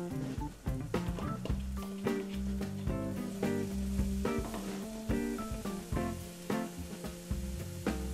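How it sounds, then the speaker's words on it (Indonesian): Carrots and potatoes stir-fried in a pan for jalangkote filling give a steady crackling sizzle with scraping stirs, mostly masked by tonal background music throughout. "Kita oseng-oseng sampai beberapa saat."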